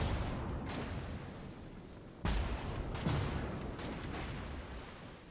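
Heavy naval gunfire aboard the battleship Missouri in World of Warships, a dense rumbling barrage with two sharp loud blasts rising over a continuous roar of distant explosions.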